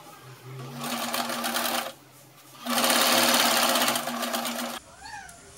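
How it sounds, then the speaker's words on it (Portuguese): A sewing machine stitches the darts of a blouse in two loud, close bursts of fast whirring, separated by a short pause, then stops. "vou fechar a pence e a gente já vai juntar"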